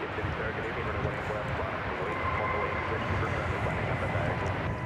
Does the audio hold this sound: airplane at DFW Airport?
yes